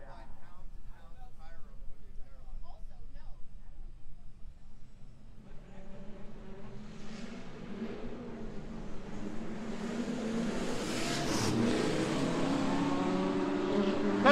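Drift cars in a battle, including an E36, build from a distant engine drone into a louder, closer rising roar under continuous commentary.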